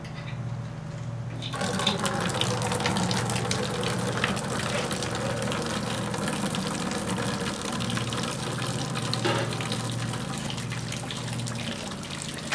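Dark chocolate stout wort from a homebrew batch made with light malt extract pours steadily through a screen, a continuous close trickling gush with a low hum underneath, running the whole time without talk.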